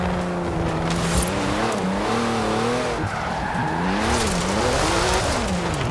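Cars in the racing game Forza Horizon 4 roar continuously, engines rising and falling in pitch through gear changes, with tire squeal and skidding mixed in, loud and close.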